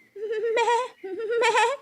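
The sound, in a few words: goat bleating in a cartoon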